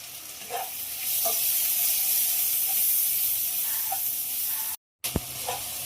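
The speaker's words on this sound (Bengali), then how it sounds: "পেঁয়াজ আর টমেটো ভাজা হয়ে গেছে" Onion and tomato fry in a pan with salt and turmeric, giving a steady, close hissing sizzle broken by light stirring taps, then a brief cut and a few scrapes.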